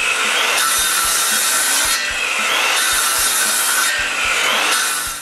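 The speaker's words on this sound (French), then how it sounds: "Pour ça, je fais une série de coupes de la bonne profondeur jusqu'à l'épaulement du tenon." Hand saw cutting wood for tenons on trestle legs, a series of depth cuts made in loud, close rasping strokes, each push and pull clearly marked in an even back-and-forth rhythm with no talk.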